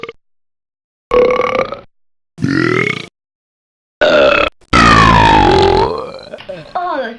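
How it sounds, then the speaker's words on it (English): Loud, drawn-out burps in four separate bursts with silent gaps between them, the last one long and shifting in pitch, all very close to the microphone. "Can't you say anything else than burping?"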